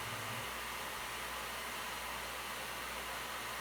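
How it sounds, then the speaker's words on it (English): A vacuum cleaner runs with a steady droning whir and low motor hum, continuous and unbroken. "Then in front of a noisy vacuum."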